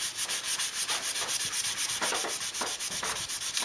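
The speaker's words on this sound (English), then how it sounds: "So you just keep sanding" Rhythmic, loud sanding strokes rasp back and forth on a mirror surface, close up and continuous with a steady scrubbing pulse.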